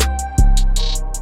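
Trap beat with an 808 kick and bass under a super fast hi-hat roll: rapid evenly spaced hat bursts that speed up, loud and close over the sustained low end.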